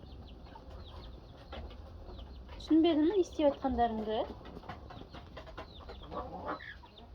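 Chickens in a backyard coop cluck a few times at close range over a steady outdoor background, with someone speaking over and around the calls.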